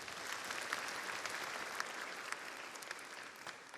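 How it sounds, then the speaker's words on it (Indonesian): Audience applause at a shalawat gathering welcoming the Deputy Governor of Central Java, a steady, fairly faint wash of many hands clapping throughout with no break. "mohon tepuk tangannya"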